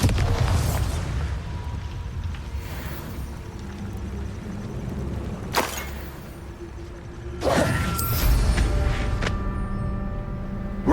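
Confringo blasting spell in Hogwarts Legacy: a loud fiery blast with whooshing impacts, followed by rumbling, then a second sharp burst later on.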